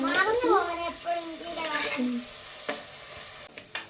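Ginger is stirred as it fries in a pan, giving sizzling and scraping sounds while a person talks over it, followed by a few sharp utensil clinks at the end.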